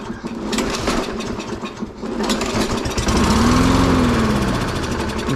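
A Toro lawn mower engine being cranked as it tries to start, loud close sputtering and churning that rises into a rough, uneven run.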